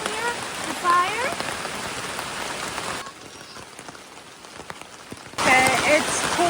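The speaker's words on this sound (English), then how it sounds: "The rain got stronger, so I'm trying to cover up here the fire." Heavy rain pours steadily at a mountain rainforest campsite with a shelter and campfire, a dense close hiss throughout that dips briefly mid-way before returning loud, with birds calling faintly in the background.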